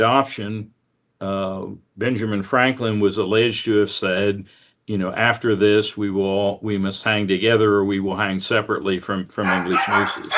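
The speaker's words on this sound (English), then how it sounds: "apologies for the dogs barking" Household dogs barking in the background while someone talks continuously over them, their barks partly masked by his voice.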